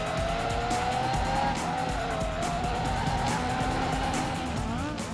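Race cars in the Gran Turismo 4 video game roar past with screeching, squealing tires, the engine whine rising and falling in a loud, continuous stretch of motor and skidding rubber.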